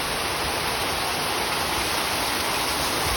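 Steady rain falling outdoors near a house where kids play basketball, a dense, even hiss of drops that stays constant and fairly loud throughout, with no voices heard.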